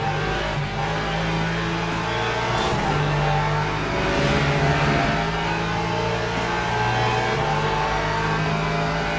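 Race car engines whine steadily in Le Mans Ultimate, a Porsche and a Mercedes battling late in a race at Paul Ricard, with a constant droning mix of revving motors and passing cars and no talk.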